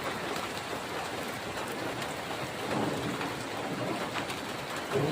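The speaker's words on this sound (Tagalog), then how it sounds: "Ulan." Steady rain falls outdoors, a dense, even hiss of drops striking surfaces, with a faint low rumble of distant thunder swelling briefly; no voices, just a constant wet wash throughout.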